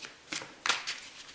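Plastic Seasons of the Witch Winter Tarot cards are shuffled by hand in a few quick, crisp riffles, each a short papery burst close to the listener, with quiet pauses between them.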